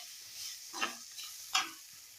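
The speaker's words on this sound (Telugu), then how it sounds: "కలుపుకొని కొంచెం సేపు వేగనివ్వాలి." Chili powder fries in a pan for a lentil sambar, giving a faint, soft sizzle with two short scraping strokes from stirring, with no voices.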